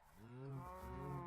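A cow moos in Minecraft, one sustained low lowing call that swells and holds steady, fairly quiet and heard alone.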